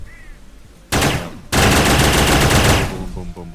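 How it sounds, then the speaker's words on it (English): MLRS rockets explode in modded Starbound, a loud sudden blast followed by a second, longer roaring barrage of rapid detonations that rumbles on for over a second before trailing off into smaller crackles. "I really enjoyed the satisfying explosion noises from the MLRS."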